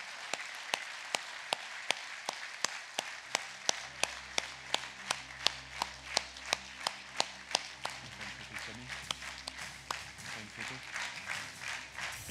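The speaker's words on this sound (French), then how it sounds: "on peut les applaudir tous et toutes très chaleureusement" An audience at a mayor's New Year greetings event claps in steady unison, evenly spaced claps repeating at a brisk rhythm, quiet and somewhat distant, with a low hum entering partway through.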